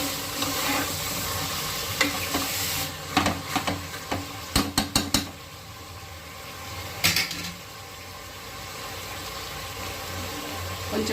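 Gongura chicken is stirred and fried in a pan with a steady sizzle throughout, broken by several sharp clanks and scrapes of the spoon against the pan; no one speaks.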